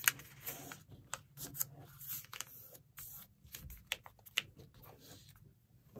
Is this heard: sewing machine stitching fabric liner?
no